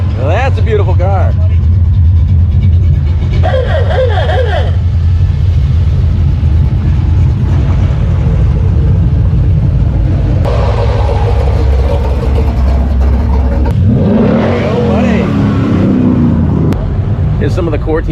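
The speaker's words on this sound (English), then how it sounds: "These show cars are piling in because we haven't let them in yet" Show cars roll into a muscle car show as engines idle and rumble past nearby, with talking throughout over the motor noise.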